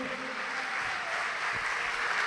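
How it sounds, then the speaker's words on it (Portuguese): A church congregation applauds during a sermon, a continuous blended wash of many hands clapping heard from a distance, steady and moderately loud throughout. "Vamos aplaudir ao Senhor."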